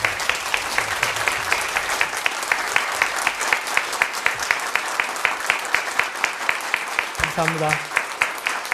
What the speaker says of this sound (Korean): 여러분 모두 기립하셔서 뜨거운 박수로 맞아주시기 바랍니다